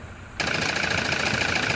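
A 2011 Toyota Hilux engine with a suspected dead injector runs rough and misfires, a steady loud uneven drone that starts abruptly after a short quiet moment.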